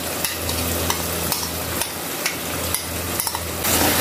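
A spice masala mix fries in a pan for chana biryani, giving a steady, dense sizzle while a spoon stirs it, with regular light scraping clicks against the metal and no talking.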